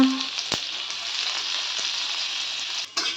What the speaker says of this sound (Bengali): এবার এর মধ্যে আমি একটু গোটা জিরে ফোড়ন দিয়ে দিলাম একটু আদাকে কুচি করে দিচ্ছি